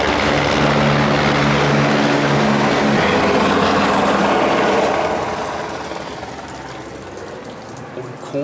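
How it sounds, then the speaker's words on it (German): A rescue helicopter lifts off in the Pyrenees mountains and flies past, its loud rotor roar steady and close before fading gradually into the distance. "Der Helikopter hebt ab, schaut es euch an."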